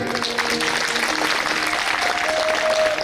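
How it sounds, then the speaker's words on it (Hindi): An audience at a Srimad Bhagwat Katha religious gathering bursts into steady, sustained clapping that fills the space evenly for about three seconds, with a faint voice underneath. "ताली बजाइए।"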